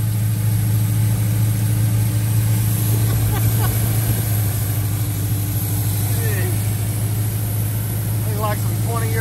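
A 1985 Ford Mustang GT engine, original and left unused since 2001 with old gas in it and smoking, idles steadily with a constant low rumble that runs unbroken throughout while people talk in the background.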